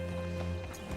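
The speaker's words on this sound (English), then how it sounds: "Hitch your horse up here." Horse hooves clopping in Red Dead Redemption 2, a steady close clip-clop over a sustained low background drone, with no talking.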